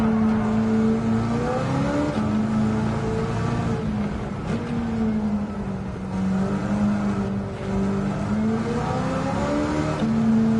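A Plymouth Superbird fitted with a Hellcat engine in Gran Turismo 7 drones steadily with a loud, continuous engine tone whose pitch rises and dips as it revs, with no voices over it.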